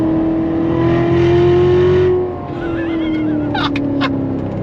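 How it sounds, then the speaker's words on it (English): A Chevrolet C7 Corvette Z06 with Lingenfelter modifications howls as it accelerates, its pitch climbing steadily before easing off, followed by a quick burst of squeaky, chirping sounds. "I just love the sound of the engine in this thing"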